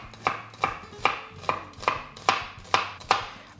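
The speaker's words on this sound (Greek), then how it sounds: "Ετοιμάζουμε το κρεμμύδι μας, το οποίο ψιλοκόβουμε." An onion is finely chopped with a knife for lentil patties: seven evenly spaced, crisp blade strikes on a cutting board, close and clear with no talking.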